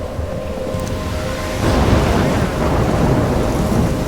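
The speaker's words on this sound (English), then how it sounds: "I'm trapped in a storm?" Thunderstorm in the video game Life is Strange, a loud continuous roar of wind and rain that swells into a heavier rumbling surge partway through, with no voices.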